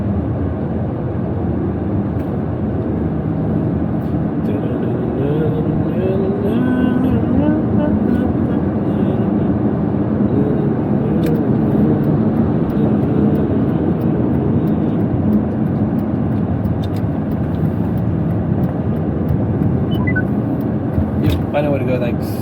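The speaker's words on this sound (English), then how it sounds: "Aston Martin DB9 V12, 6 litre V12" Aston Martin DB9 with a 6-litre V12 and ZF six-speed automatic, driving with a steady, loud engine drone throughout, its pitch rising and falling slightly, and a voice talking intermittently over it.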